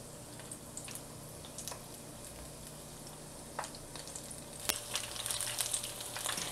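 Bhajia (pakora) deep frying in a pan full of oil, a soft, continuous bubbling sizzle with occasional faint clicks of a fork, growing a little louder toward the end.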